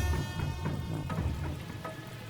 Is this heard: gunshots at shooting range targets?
no